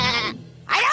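A cartoon character in The Mr. Men Show, Miss Daredevil, gives a goat-like bleat: a voice imitating a goat, two loud wavering bursts separated by a brief gap, up close and alone.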